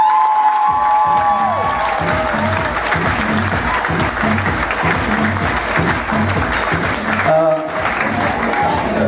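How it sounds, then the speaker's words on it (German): A line dance audience breaks into loud, sustained applause mixed with cheering and whoops. The clapping is dense and continuous across the whole stretch, with a short dip near the end. Voices can be heard within the crowd noise. "kräftigen Applaus"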